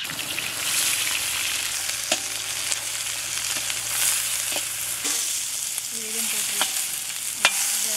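Finely chopped shallots frying in coconut oil for Kerala fish pollichathu masala: a loud, continuous close sizzle with occasional small clicks of a spoon or pan.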